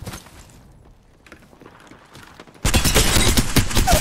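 Gunfire in the video game Apex Legends erupts as a loud, rapid automatic burst that fills the second half, following quieter footsteps and handling sounds.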